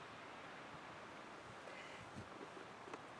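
Wind blowing across a wildflower-covered slope on Sandia Mountain, a faint, steady broadband rush with gentle gusts and light rustling, no voices.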